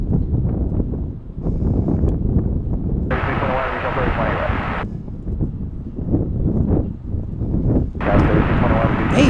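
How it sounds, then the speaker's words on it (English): American Airlines Boeing 787 Dreamliner from Seoul arriving at DFW International Airport, a steady roar of jet engines mixed with wind buffeting on the microphone, while a person talks over it throughout. "looks like we got American 280 Heavy from Seoul, South Korea on a Dreamliner, arriving shortly"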